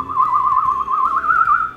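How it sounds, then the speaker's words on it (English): Someone whistles a short, wavering tune up close, the melody rising and falling smoothly without pause. "now I find myself whistling."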